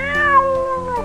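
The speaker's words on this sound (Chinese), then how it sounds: "一群野猫都凑在苏府周围的时候" Stray cats meowing in an animated cartoon scene, several drawn-out, tonal meows overlapping one another, close and fairly loud, with no talking.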